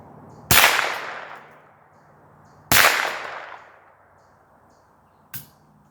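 Two sharp .22LR rifle shots from a CMMG AR conversion, each followed by a long rolling echo across an open range toward a 200-yard target, with a faint third crack near the end.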